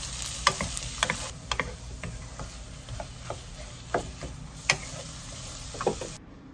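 Cherry tomatoes and chives stir-frying in olive oil in a pan, a soft steady sizzle punctuated by irregular light taps and scrapes of a utensil, fairly quiet and close, ending abruptly.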